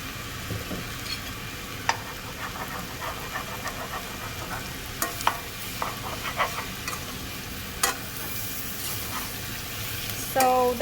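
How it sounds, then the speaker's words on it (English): Egg fried rice with chicken and vegetables stirred nonstop in a pan over high flame, a continuous close sizzle punctuated by repeated scraping and tapping of a spatula, ending with a louder clatter. "since I'm cooking it on high flame, I have got to continuously keep on stirring"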